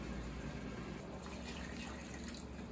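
Water runs steadily from a tap into a pot in a continuous hissing stream, fairly quiet and unbroken, with no voices.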